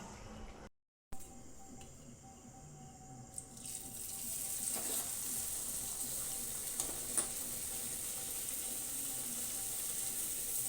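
Luchi fry in hot oil, a soft sizzle that starts quietly after a brief cut and grows into a steady close hiss with a few louder bubbling swells.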